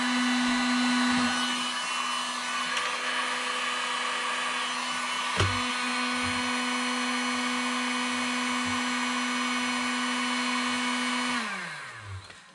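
A heat gun runs in its cool-down period after shrinking large heat shrink tubing onto a battery pack. It gives a steady fan whine and hum up close, with one brief knock midway, and then spins down and stops near the end.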